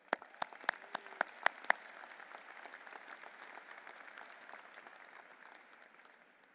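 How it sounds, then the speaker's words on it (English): Applause from the audience at a college commencement ceremony, starting with a few sharp, distinct claps and swelling into sustained, even clapping from a large crowd heard at a distance, slowly tapering off. "Let us also give you a round of applause."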